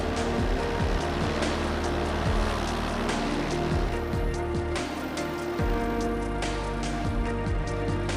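Steady loud paramotor engine drone with a strong harmonic hum and broad wind rush during a low scud-running flight in rain, constant throughout with occasional faint tapping bursts.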